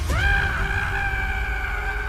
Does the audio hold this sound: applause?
no